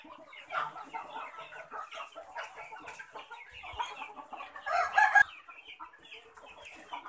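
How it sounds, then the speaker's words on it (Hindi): A flock of desi (native Indian breed) hens clucks and chatters continuously at moderate volume on a farm, with a brief louder squawk partway through. "प्योर देसी मुर्गी,"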